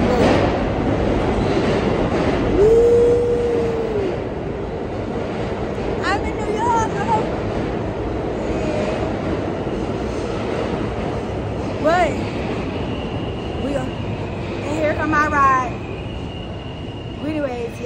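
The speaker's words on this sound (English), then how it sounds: "The train is coming in." A train rolls in with a low rumble and rattling wheels, punctuated by high brake squeals, while people talk in the background.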